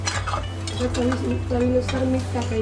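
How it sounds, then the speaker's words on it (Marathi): A spoon stirs crab curry in a pot on a high flame, making scraping, clinking strokes against the metal over a constant low hum, close and fairly loud, with no speech. "गॅस बघा फास्ट ठेवायचं आहे आणि आता व्यवस्थित हलवून घ्यायचं"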